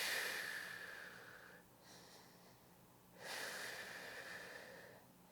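Slow, deep breathing during an exercise routine, a long airy exhale followed by a pause and another drawn-out breath, soft and close with a faint background hum.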